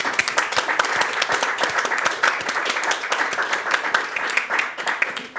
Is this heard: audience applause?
yes